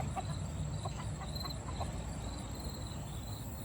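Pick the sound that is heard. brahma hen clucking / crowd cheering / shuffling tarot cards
brahma hen clucking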